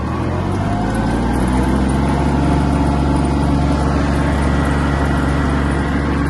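The engine of a Kubota KL-300 Japanese mini tractor runs loud and steady as it is given throttle. It is a dense, close mechanical drone that builds slightly, with no voices over it.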